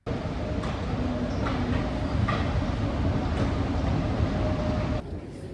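Riding a Seoul metro train: a steady, loud rumble fills the carriage, with faint squeals and clicks on top, then the noise drops off abruptly near the end.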